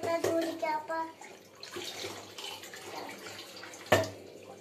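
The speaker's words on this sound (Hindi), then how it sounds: "ठीक से धो ना, कम नल खोलो, थोड़ा धीमा करो" A kitchen tap runs while dishes are washed, a steady close splashing stream with hand movement and a sharp clatter near the end, under brief speech.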